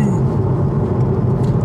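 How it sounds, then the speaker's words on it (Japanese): A Honda Civic hatchback with a six-speed manual and turbo engine pulls hard at full throttle in second gear, a loud, steady engine roar filling the cabin throughout. "では加速の方をしてみようと思います。 今2速で全開しております。"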